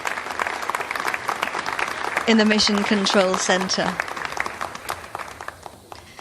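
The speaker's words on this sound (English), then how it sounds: "Now we have some applause there" Applause breaks out in the Mission Control Centre after the TIBA-1 satellite separates from an Ariane 5 launcher, a lively burst of clapping and cheers that peaks in the middle and fades, with a commentator speaking over it.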